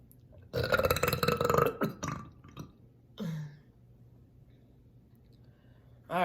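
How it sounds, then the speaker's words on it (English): One person burps on command, with a long, loud, rumbling belch up close followed by a few shorter gulping burps and a small closing one after a quiet gap. "I'm gonna do 7 minutes of burping."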